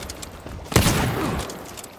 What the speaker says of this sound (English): I see guns blazing there.